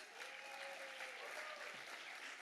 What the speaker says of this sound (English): So much for the holding the applause.